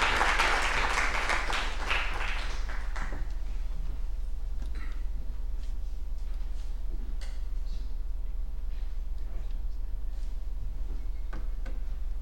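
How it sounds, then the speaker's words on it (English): Audience applause welcoming a guest lecturer on scalable programming for big data, moderately loud for about three seconds, then thinning into scattered faint claps and room tone with a steady low hum. "Uday with a wide applause."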